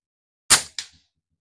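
A PCP air rifle fires one sharp, loud crack from close by, with a second softer snap a quarter second later, then quiet, with no talking.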